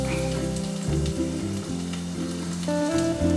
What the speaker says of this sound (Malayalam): അതൊഴിച്ച് എണ്ണ ഒന്ന് ചൂടാവട്ടെ. ഞാൻ കുറച്ച് വെളുത്തുള്ളി ആദ്യം ഇട്ട് കൊടുക്കും